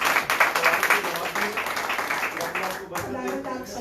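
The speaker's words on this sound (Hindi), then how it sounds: "बहुत सारी तालियां सबके लिए" Church congregation at a Friday worship service clapping in a dense, sustained round of applause, with voices talking and calling out over it throughout.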